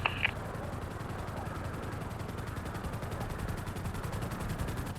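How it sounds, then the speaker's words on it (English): Attack helicopter gun run firing on vehicles in the game GTA, a steady rattling gunfire texture that runs unbroken for the whole stretch, moderately loud with a brief sharp blip near the start. "You're clear on the gun run."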